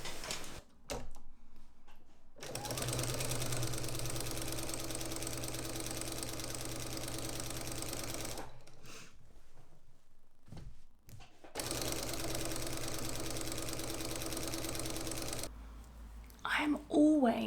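A sewing machine quilting a patchwork quilt runs in long, steady bursts of rapid stitching, broken by short pauses, with a voice talking faintly at times.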